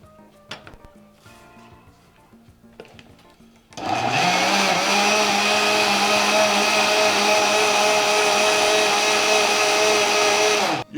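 A blender whips up gazpacho with chili and fresh basil: after a few quiet seconds of light kitchen knocks, the motor kicks on loud and roars steadily at close range until the end.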